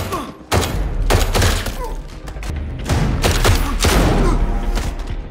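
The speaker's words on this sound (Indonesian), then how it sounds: "terjadilah aksi tembak-tembakan." Rapid bursts of gunfire crack and thump in clusters, loud and sharp, with muffled impacts in between, in a shootout with a mafia boss's men in an action film.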